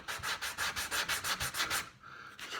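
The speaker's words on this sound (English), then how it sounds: "get my fine sander" A wooden shelf is sanded by hand with a flexible fine sander in quick, regular back-and-forth strokes, about a dozen rasping passes close up, then a brief pause and one more stroke.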